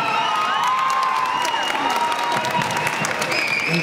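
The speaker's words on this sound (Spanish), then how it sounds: "Un aplauso." An audience at a live show claps in a dense, steady burst, mixed with scattered cheers and whoops, loud and close throughout.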